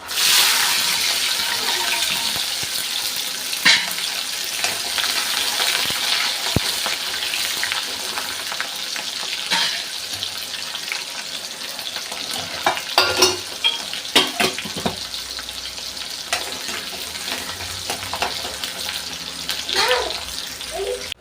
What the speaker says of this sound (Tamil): இப்போ வந்து சின்ன வெங்காயம் போட்டுக்கலாம்